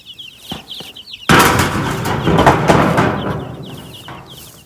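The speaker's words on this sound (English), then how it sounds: "these little chicks are about a week old at this point" Week-old chicks outdoors give thin, high peeping calls at the start and again at the end, interrupted by a loud rushing, rustling burst in the middle.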